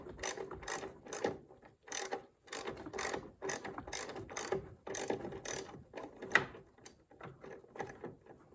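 A ratchet on a 3-inch extension turns C3 Corvette door bolts, clicking in quick rapid bursts of pawl ticks with short pauses between strokes, close and moderately loud, with no talking.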